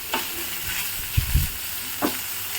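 Fish frying in mustard oil gives a low, soft sizzle with a few stirring scrapes and bumps, close by, with no talking.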